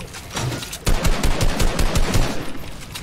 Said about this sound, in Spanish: Se está disparando toda la lobby.